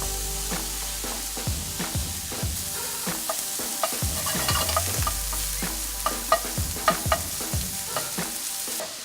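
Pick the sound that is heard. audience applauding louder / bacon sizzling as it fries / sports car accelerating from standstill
bacon sizzling as it fries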